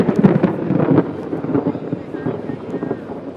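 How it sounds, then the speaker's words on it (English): Thunder rumbling at an outdoor air race, a low rolling roar with wind buffeting the microphone, loud at first and then easing into a steadier murmur, with faint voices mixed in. "So more thunder, very inopportune timing, because the race is literally due to start."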